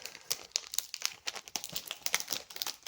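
Crinkly plastic sleeve being ripped off a music album, a dense run of close, crackling rustles and tearing bursts that continues without pause for a few seconds.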